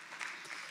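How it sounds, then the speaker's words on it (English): Brief burst of audience applause at a regional symposium session, steady and moderately faint, cut short after under a second. "Shall we give a big round of applause to Mr."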